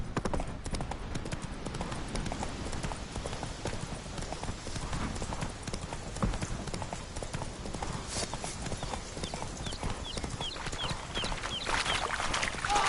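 Hooves pound steadily as Roach, the horse in a video game, gallops, a fast continuous clip-clop rhythm running close and loud throughout.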